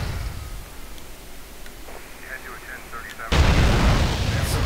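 Explosions in GTA San Andreas, modded so blasts dismember characters: a low rumble, then a sudden loud booming blast that holds as a thick, sustained roar through the end.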